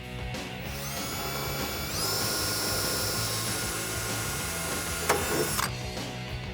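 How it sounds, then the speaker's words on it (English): A power drill whines steadily, drilling holes in a Jeep Wrangler JK wheel well for aluminum inner fender flares, its pitch rising as it bites in, with a brief clunk near the end before it spins on. "so I'm going to go ahead and start my drilling."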